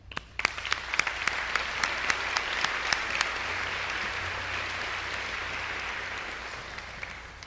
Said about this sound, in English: I offer you a round of applause.